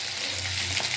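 Bata fish frying in a pan, a steady close hiss of sizzling oil with a low hum underneath, continuous and fairly loud.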